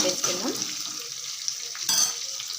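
Green chilies stirred in a hot oiled pan with onions for chili rice, a steady close sizzle broken by scrapes of a spoon against the pan and a brief louder burst near the end.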